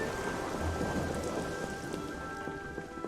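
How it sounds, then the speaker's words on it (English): Rain falls steadily in the video game Xenoblade Chronicles 2, a continuous soft hiss of drops on surfaces with a low background hum and a faint tone, fairly quiet and even throughout. "I do love this bit of rain we've got going on here in the game."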